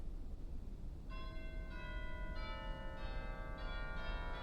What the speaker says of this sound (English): We also have a set of chimes in there.